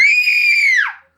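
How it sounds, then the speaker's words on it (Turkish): A child lets out one long, loud, high-pitched scream while playing with slime, held steady and then sliding down sharply before cutting off. "Çığlıklar."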